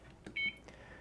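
A short electronic timer beep sounds once as the timer is stopped during a dummy load cooling test. It is brief and faint, with a soft click just before it.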